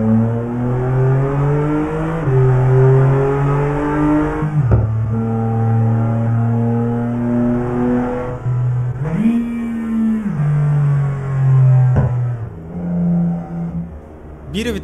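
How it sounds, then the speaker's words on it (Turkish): A BMW car engine in Euro Truck Simulator 2 revs loud and close, its pitch stepping up and down as the gearbox drops several gears, with brief shift blips between the sustained engine drones. "Bir vites aşağı alıyorum ve kendi kendine 3 vites aşağı çekiyor."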